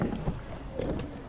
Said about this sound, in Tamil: மக்களே பார்த்தீங்கன்னா ஸ்பீட் போட்டில் போக போகிறேன்